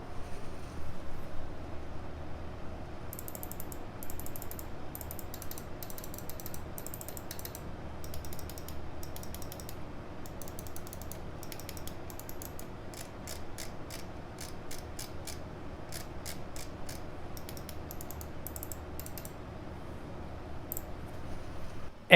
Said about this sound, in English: I'm going to give you that click test right now so you can actually hear the difference on those buttons